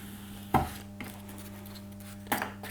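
A sheet is cut from a foam block in two brief, soft, scraping strokes about two seconds apart, faint against a low steady hum.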